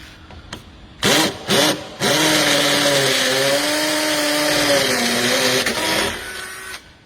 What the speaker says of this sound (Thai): เดี๋ยวลองเจาะกำแพงปูนดูนะครับ